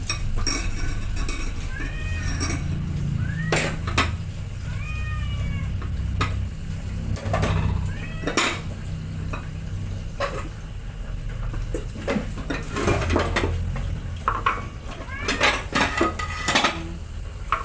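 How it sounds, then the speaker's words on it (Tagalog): Plates and dishes washed by hand, clattering and clinking irregularly throughout, close and loud, with a cat meowing several times in between. "Yung ingay ng mga plato malakas pa sa boses ko."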